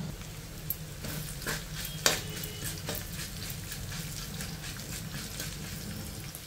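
Mustard seeds, lentils, cumin and dry red chillies sizzle steadily in hot oil for a tempering, with a continuous crackling hiss and a few sharper pops and stirring clinks, fairly close and with no voices.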